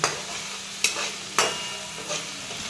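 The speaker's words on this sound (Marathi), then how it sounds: "तेल सुद्धा चांगला मसाला परतून घ्यायचा" Masala of red chili powder, turmeric and garam masala frying in hot oil for a Maharashtrian village-style red curry, stirred with steady sizzling and several distinct scraping strokes of the spoon against the pan.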